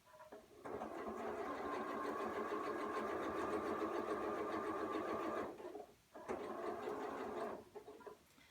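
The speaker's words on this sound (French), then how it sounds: "on passe à la machine et juste on va faire une couture le long de cette bande-là" A sewing machine stitches a seam along a strip of patchwork squares for a nine-patch quilt block. It runs in one long steady whir of about five seconds, pauses briefly, then makes a shorter burst.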